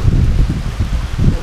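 Steady, loud wind buffets the microphone with low rumbling gusts, continuous with no voices, at a flower farm in Atok, Benguet.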